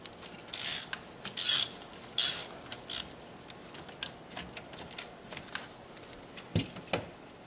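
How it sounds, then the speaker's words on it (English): A 10mm socket wrench works the battery cable nut on the back of a GM alternator, giving bursts of quick ratcheting clicks and metallic taps, close and fairly quiet, with no talk. "Remove the cable off the back of the alternator that goes to the battery with a 10mm socket or a wrench."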